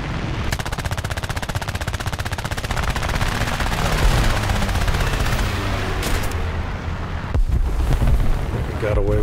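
Rapid aircraft machine-gun fire in the War Thunder air combat game, dense rattling bursts with rumbling blasts mixed in, loud and continuous, with a voice briefly talking over the action.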